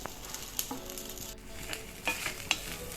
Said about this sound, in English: Mix gently. Add 1 teaspoon pepper powder and the gobi fritters.